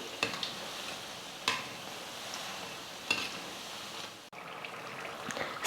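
Spoonfuls of snack batter deep-fry in hot oil while a ladle stirs them, making a steady bubbling sizzle with a few scraping knocks at uneven intervals, heard close up and without speech.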